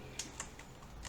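Computer keyboard keys are pressed, including Shift and Enter, giving a few faint, quick clicks spaced across a quiet second.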